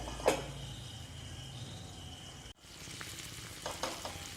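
Sardines frying in a pan with green chilli and asafoetida, a steady close oil sizzle with a sharp crackle early on, a brief break, then continued frying with occasional pops, no talk.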